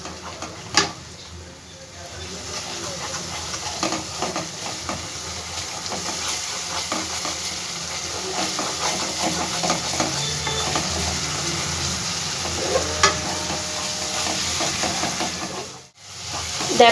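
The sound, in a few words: spices with Kashmiri chili powder frying and stirred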